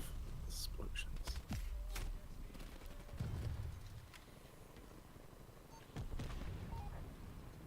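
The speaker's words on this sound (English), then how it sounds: "There are lots of explosions." Explosions and artillery fire in a video game sound as sharp bursts and booming impacts, some close and some distant, with quieter rumbling stretches in between.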